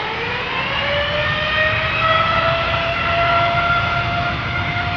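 A Boeing 787 Dreamliner jet airliner takes off at Amsterdam Schiphol, steady engine roar carrying rising whining tones that climb in pitch as thrust builds, loud and sustained throughout with no speech.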